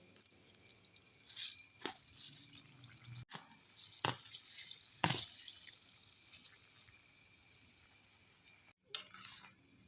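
Rice poured into a pot of water for jungle pulao, giving a few close splashes and wet drips spaced irregularly, with quiet gaps between them.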